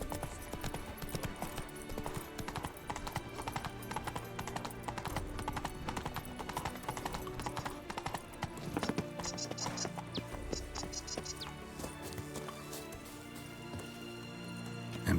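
Steady clip-clop of horse hooves trotting in the video game The Witcher 3: Wild Hunt, Blood and Wine, continuous under a dense bed of game music and ambience.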